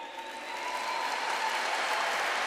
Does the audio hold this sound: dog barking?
no